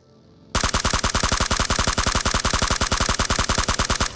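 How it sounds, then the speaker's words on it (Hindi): An M4 rifle in a mobile battle royale game fires one long, loud, fully automatic burst of rapid, evenly spaced shots lasting several seconds, heard with no talking. "अब यहाँ पे मैं M4 से फायर कर रहा था"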